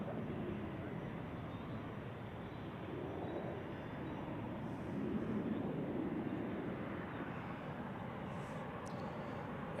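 A Turkish Airlines Airbus A330-300 airliner lands at Zurich Airport in crosswinds, a faint, distant broad engine rumble that swells slightly midway and holds steady, with no clear voices.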